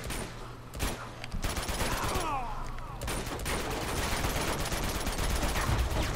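Gunfire in the video game Uncharted 2, a sustained volley of rapid shots rattling on without pause, loud and close, with a brief lull early before the barrage resumes.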